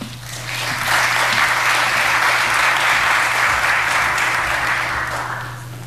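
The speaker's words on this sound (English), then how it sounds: "Please make her welcome with a warm round of applause." A room full of listeners at a learning festival gives warm applause to welcome a speaker, a dense steady patter that swells in, holds for several seconds and tapers away.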